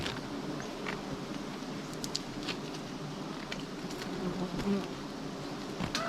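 Bees swarming around a large wild honey nest during honey hunting, a dense steady buzzing hum that fills the whole stretch, close and continuous, with no talk.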